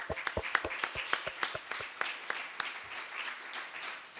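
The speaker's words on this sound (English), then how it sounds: "let's give them a big round of applause" Scattered applause from a church congregation at a Sunday service, with distinct individual claps early on thinning into a softer, steady patter, moderately faint and heard without talk.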